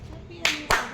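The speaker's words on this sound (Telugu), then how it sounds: "క్లాప్స్ కొట్టండి" Two quick hand claps from people at a family birthday celebration, sharp and close, with a faint voice underneath.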